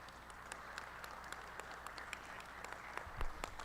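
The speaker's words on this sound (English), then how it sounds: "I'd like to just take a moment and give you guys a round of applause" A round of applause from attendees at a Pop Warner regional meeting, steady mixed clapping held at an even moderate level throughout, somewhat distant and without talk.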